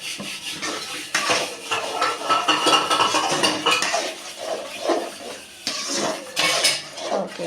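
A spoon stirs thick brinjal gravy with spice powder in a metal pan, making continuous close scraping and clinking against the pan with no voices.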